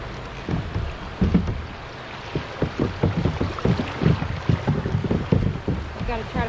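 A kayak pushes through river rapids on the way to musky fishing water, with broadband rushing water and repeated splashing paddle strokes and hull knocks, close and fairly loud throughout.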